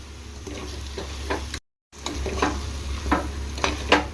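Ivy gourd (dondakaya) masala curry sizzles in a pan as a spoon stirs it, with rhythmic scraping strokes about every half second over a steady low frying hiss, broken by one brief silent gap.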